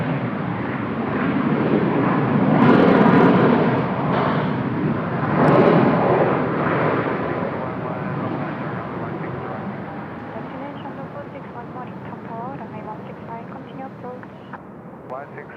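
A Korean Air 901 airliner takes off at Seoul Incheon Airport, a broad engine roar that swells twice early on and then fades, with air traffic control talk running over it throughout.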